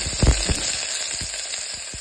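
Mustard seeds hit one to two spoons of hot oil in a pressure cooker, giving a close, soft hiss of sizzling with a few sharp pops and crackles near the start.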